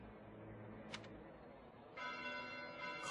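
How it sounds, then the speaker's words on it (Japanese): A faint, distant church bell in the video game Fire Emblem: Three Houses rings once briefly, then a sustained chime swells in over a low ambient hum. "鐘の音。"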